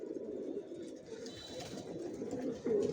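Racing pigeons of Johnson lines in a loft give soft, low repeated coos, fairly close and quiet, blending into a murmuring background.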